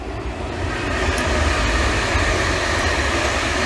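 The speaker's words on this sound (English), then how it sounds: "I let this train go past." A train passing close by makes a loud, steady rumbling roar with a broad rushing wash of noise that holds throughout, with no talking.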